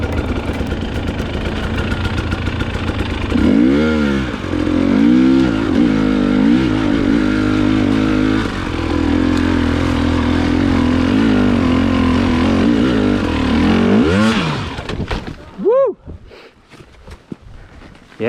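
A TX300i enduro motorcycle runs through cold, wet swampy terrain, its two-stroke engine droning loudly and steadily with repeated revving surges, then dropping away and fading near the end.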